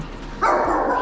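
A single dog bark or yelp rings out close and loud, followed by a sustained whining cry.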